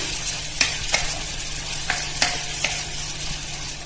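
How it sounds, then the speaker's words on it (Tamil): Small onions sauté in an iron kadai for country chicken gravy, a steady close sizzle broken by regular spatula scrapes about every half second. "நம்ம வெங்காயம் ஆட் பண்ணிட்டோம். நல்லா வதக்கிக்கலாம்."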